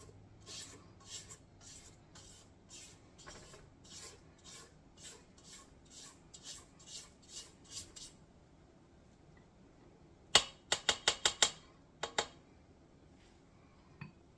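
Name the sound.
scraping down the sides of a mixing bowl of batter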